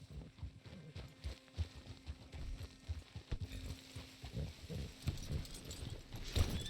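In the video game Red Dead Redemption 2, horse hooves clip-clop in an uneven walking rhythm, quiet and close, over faint ambient background with no clear speech.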